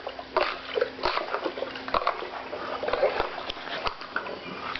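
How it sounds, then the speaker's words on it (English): Water from a garden hose flushes through a pool deck drain, a continuous close-up sloshing and gurgling with scattered clicks and knocks. "Just insert the hose into the deck drain"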